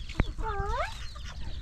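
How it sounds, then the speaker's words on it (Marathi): A hen eating tomato gives a short, close clucking call with a rising and falling tone, preceded by a single sharp click, in a quiet farm setting. "कोंबडी टोमॅटो खाते आता."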